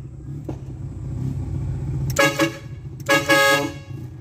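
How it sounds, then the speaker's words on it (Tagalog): A musical horn newly installed on a vehicle sounds two loud, sustained bursts, each about a second long, with rich bright harmonics, over a low idling engine rumble. "So subukan natin mga kuys kung okay ba yung ating horn or serbato."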